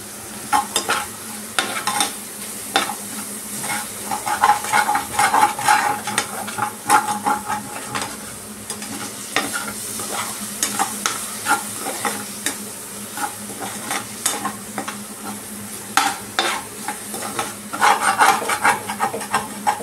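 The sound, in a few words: spices frying and being stirred in a pan for fish curry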